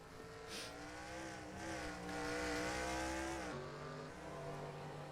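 Race cars battle for the lead, engines droning loudly with steady rising pitch before dropping as they ease off, a continuous close roar with no talk.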